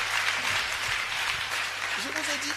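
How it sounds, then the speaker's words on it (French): Congregation applause during a church youth retreat, a dense wash of clapping from many people with voices talking over it. "Applaudissons pour Jésus."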